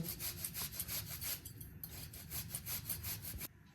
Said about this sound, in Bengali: এখন ওপর দিয়ে গুড় আমি একটু গ্রেট করে দেব।